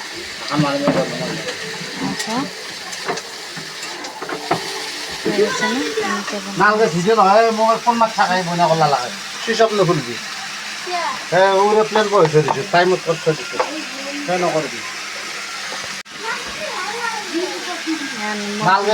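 A potato fry sizzles in a covered pan while being stirred to keep it from sticking, a steady frying hiss with intermittent scraping, under a person talking nearby for much of the time.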